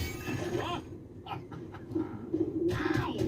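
A cartoon bird coos softly in a few short rounded calls, mixed with background sound and brief voices.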